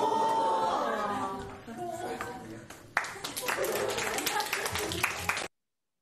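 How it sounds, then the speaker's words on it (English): Students in a classroom break into applause for one another, a burst of scattered clapping that starts suddenly after chatter and talk and carries on amid voices and light laughter before stopping abruptly. "students end up applauding each other"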